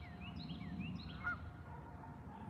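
Goose honking from a farmyard near fruit trees, several short nasal calls in quick succession at a distance, fairly faint over low background rumble, with no talking.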